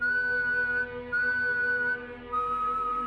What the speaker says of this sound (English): 3 long whistles, then silence.